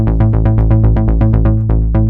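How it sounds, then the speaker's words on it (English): A loud, buzzy square-wave synth bass plays a rapid sixteenth-note pattern, jumping between low and high octaves in a driving, steady rhythm. "it's a really powerful square bass which works well if you make octave jumps like this"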